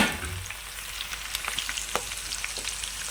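Drumstick pieces frying in hot oil with onions for sambar, a continuous crackling sizzle close by with irregular sharp pops and a few stirring scrapes, no voices.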